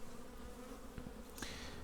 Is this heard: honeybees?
yes